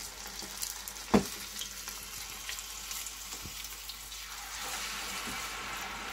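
Stuffed jelly ear mushrooms fry in sunflower oil with a steady soft crackling hiss, broken by one sharp clatter near the start and a brighter sizzle swelling toward the end.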